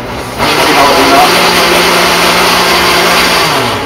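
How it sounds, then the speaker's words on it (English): A blender whirring continuously and loudly, pureeing hot cream of mushroom soup, a steady high-pitched motor roar filling the whole stretch. "That looks like a good blender, though."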